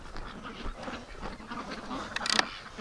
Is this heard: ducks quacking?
yes